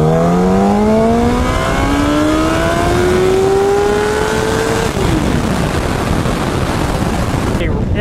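A 2004 Yamaha R1 motorcycle engine revs hard through first gear, a loud continuously rising howl that climbs in pitch, then drops abruptly at the shift as wind roar fills in, close and steady.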